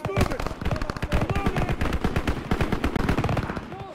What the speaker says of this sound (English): Gunfire this way! Too risky!